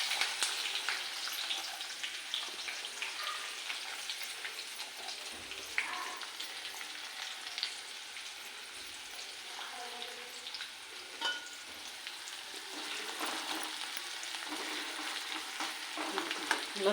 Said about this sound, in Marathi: लसूण आणि कांदा चांगला लाल होऊन दे